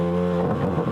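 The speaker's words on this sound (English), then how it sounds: "fire up my airbrush." An airbrush compressor hums steadily at close range, a continuous motor drone with a faint tonal whine, running alone with no voices.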